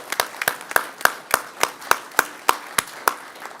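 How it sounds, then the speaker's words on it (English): City council meeting audience applauding the police department: a small group clapping in a steady, even rhythm of about eleven crisp, distinct claps, fairly close and clear. "Can we get a round of applause for"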